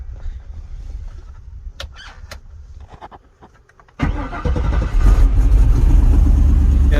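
Engine freshly fitted with a new exhaust cranks and fires up, preceded by a few seconds of quiet clicks and handling noises, then catches abruptly and runs loudly and steadily up close.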